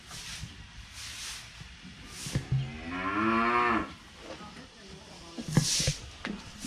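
A cow on a Thai farm homestay gives a single long, loud, nearby moo with a falling pitch midway through, surrounded by quieter rustling and scattered background noise.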